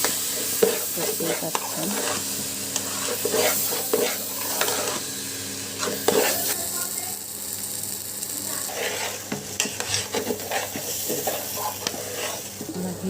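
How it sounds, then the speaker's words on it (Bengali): Rice fries in oil in a pan and is stirred, making a continuous sizzle broken by rhythmic scraping and clattering strokes of the spoon, while a voice speaks briefly near the start. "চালটাকে ভেজে নিচ্ছি"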